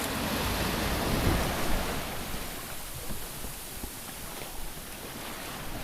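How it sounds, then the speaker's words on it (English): Ocean waves rushing around a single-handed sailboat surging downwind offshore, a steady broadband wash of water and wind that swells slightly early on and then holds, with no voices. "The boat surges off the waves."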